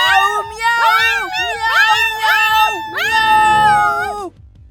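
Several young voices imitate a cat, meowing loudly in a rapid series of drawn-out, rising and falling mews, ending abruptly.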